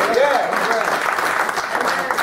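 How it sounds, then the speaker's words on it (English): A church congregation gives a hand clap of praise, steady crowd clapping with a voice rising over it near the start. "Come on and give God a hand clap of praise."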